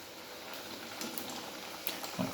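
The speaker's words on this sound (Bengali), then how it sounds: "আমরা এই লুচিটাকে দিয়ে দেবো তেলের মধ্যে, দিয়ে এটাকে একটু লাল করে ভেজে নিতে হবে।" A potato luchi fries in very hot oil with a faint, steady bubbling and crackling sizzle, and a few soft taps rise briefly near the end.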